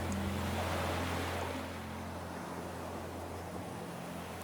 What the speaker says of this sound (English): Below the cliff, you can hear the ocean, not as individual waves, but something deeper and slower.